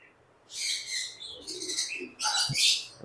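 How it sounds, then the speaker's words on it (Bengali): Lovebirds chirp and twitter in a busy aviary, bright bursts of calls overlapping in quick clusters with short pauses, close and lively, no talking. "শাওন ভাইয়ের খামার ভর্তি লাভ বার্ড"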